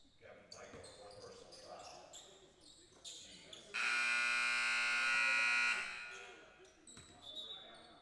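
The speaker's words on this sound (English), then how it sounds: "as the buzzer goes off accidentally" A basketball game clock buzzer goes off, a loud sustained electronic tone lasting about two seconds mid-clip, set among gym sounds of bouncing balls and sneakers with talk before and after.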